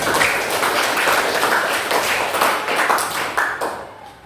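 A class applauding together in a classroom, a sustained burst of clapping that tapers off at the end, no talk over it.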